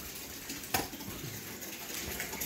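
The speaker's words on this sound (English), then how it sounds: "And you can hear the water flowing as it's filling up." Water rushing through a newly installed 120V water valve into a toilet cistern, a steady gushing fill with one brief knock, moderately quiet and continuous.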